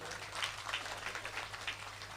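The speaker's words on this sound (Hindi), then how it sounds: "जोरदार ताली बजाओ।" An audience at a Rajasthani kavi sammelan (poetry gathering) in Deshnok claps together, a soft, dense patter of many hands heard from a moderate distance.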